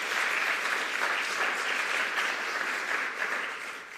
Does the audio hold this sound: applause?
yes